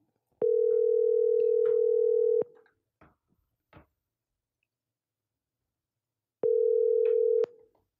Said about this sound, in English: So let me get Clarence on the phone